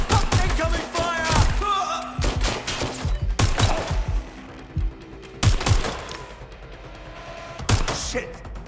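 Incoming gunfire in the video game Watch Dogs: Legion: loud bursts of automatic fire and heavy impact thuds, coming in several clusters separated by short lulls, close and intense.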